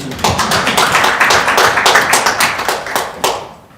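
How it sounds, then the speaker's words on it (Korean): An audience at a policy forum in a National Assembly seminar room claps for a professor, a close, dense burst of many hands that tapers off near the end. "곽승진 교수님께 큰 박수 부탁드립니다"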